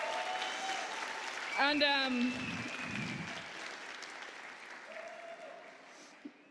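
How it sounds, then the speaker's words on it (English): Audience applause rises at the Gayming Awards 2022 ceremony, a brief burst of clapping from the crowd that fades under a presenter speaking over a microphone. "let's all give a big round of applause to the trans community,"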